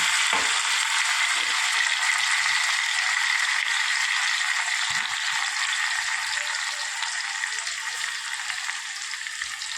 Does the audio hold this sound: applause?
no